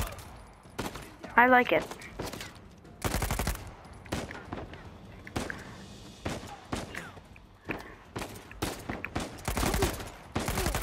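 In the video game Uncharted 4, repeated loud bursts of gunfire from a single gun come in short volleys with gaps between them, while someone talks over the shooting.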